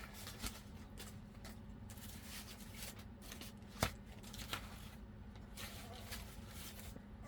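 Loose papers being gathered and shuffled in a pile, a soft continuous rustle with a few sharper crinkles and one crisp snap, close but quiet.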